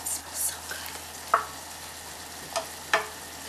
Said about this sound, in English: And stir it all together.